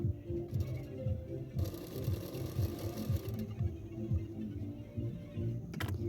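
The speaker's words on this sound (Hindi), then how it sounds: "अस्तर का फैब्रिक की किनारे किनारे पे सिलाई कर रही हूँ उल्टाने से पहले" A sewing machine runs steadily, stitching along the edges of blouse lining fabric, with a continuous low mechanical hum and a fast repetitive needle rhythm close by, and no talk.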